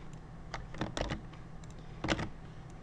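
Arrow keys on a computer keyboard are tapped in a few quick clusters, close and crisp clicks with short pauses between bursts, over a quiet room.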